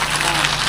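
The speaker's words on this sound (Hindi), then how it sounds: "जरा एक बार पहले बजाइए तो ताली हम देखें कैसे आप लोग बजा रहे हैं।" A crowd at a Hindi devotional discourse on the Ramayana claps together in a brief, dense burst of applause that fills the moment without any talking.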